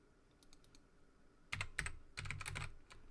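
Bursts of typing on an old beige computer keyboard, faint scattered clicks at first, then dense, loud clusters of keystrokes close by, with no talk.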